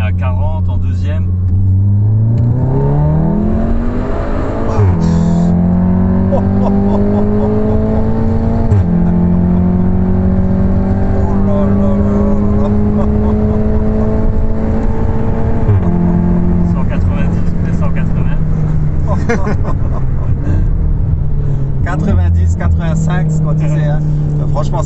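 VW Golf 7.5 R stage 2 engine pulling in second gear: loud, steady revving that rises in pitch and drops at each gear change, heard from inside the car with someone talking over it.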